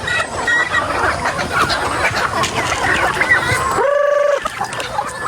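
Free-range chickens in a netted pen cluck and chatter continuously close by, with a brief high tonal squeal near the end.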